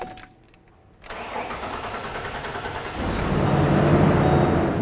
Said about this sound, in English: let's go ahead and start up the vehicle